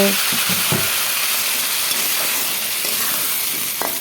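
Raw plantains fry in hot oil with a steady, dense hiss and sizzle that runs throughout, broken by a few soft clinks near the start.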